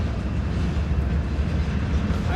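A train pulling away, heard as a steady, loud low rumble with continuous rolling rail noise and no clear breaks throughout.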